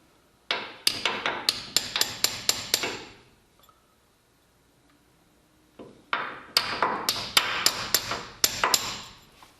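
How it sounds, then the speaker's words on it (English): A hammer knocks out an old engine core plug on a car's engine block: two bursts of about eight sharp, ringing metallic blows each, in quick rhythm, separated by a few seconds of quiet. "punch out the old core plug now and get the new one in there"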